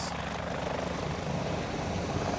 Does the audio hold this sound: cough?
no